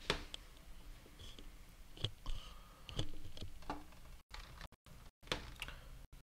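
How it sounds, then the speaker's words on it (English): Keys on a computer keyboard click in short, scattered bursts at a moderate level, with brief gaps of silence between clusters of taps. "oh, someone's typing"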